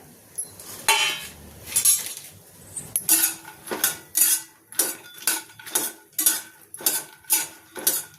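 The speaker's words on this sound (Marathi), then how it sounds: "त्यानंतर आपण आता याच्यामध्ये मखाना टाकून घेऊया." Makhana (fox nuts) tossed and roasted in ghee in a pan, with a run of sharp, regular metallic clinks and scrapes of a utensil against the pan, close and fairly quiet, growing more rhythmic toward the end.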